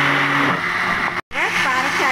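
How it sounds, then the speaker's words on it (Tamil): A mixer grinder blending kuih lapis labu coklat batter with added water, a loud, steady motor whine that stops for a split second and then resumes. "இப்போ எல்லாத்தையும் சேர்த்து நல்லா அரைக்கலாம்."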